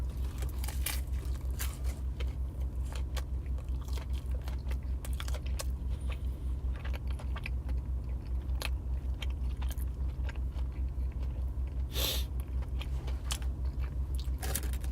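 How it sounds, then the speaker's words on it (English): A crunchy snack chewed close to the mouth: quiet, irregular crisp bites and crunches over a steady low hum, with a few soft keyboard-like clicks and no talking. "Let me just enjoy my snack for a second."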